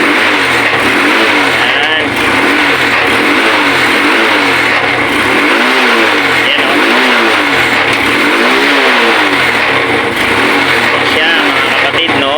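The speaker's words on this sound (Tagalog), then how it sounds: "Paandarin ko yung motor." A motorcycle engine starts and revs steadily close by after its regulator was replaced, a loud continuous roar with rising and falling pitch filling the whole stretch, voices faint beneath it.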